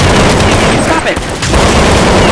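Dense bursts of gunfire in Counter-Strike on the Pool Day map fill the whole stretch, loud and continuous, with voices heard over the shooting.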